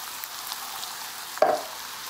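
Diced tomatoes drop into a hot frying pan of cooked-down garlic, the steady oily sizzle suddenly jumping into a louder, brief hiss that quickly settles back.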